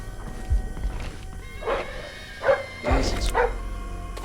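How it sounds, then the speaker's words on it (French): A dog barks in the stealth video game Splinter Cell: Blacklist, giving several short, moderately loud barks spaced over a few seconds amid game background sound. "Merde, un chien."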